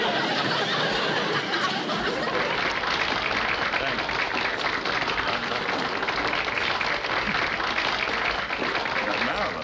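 Audience applause and laughter fill the room after a magician's cabinet trick meant to bring back his wife, a steady dense wash of clapping lasting throughout with murmured chuckles mixed in.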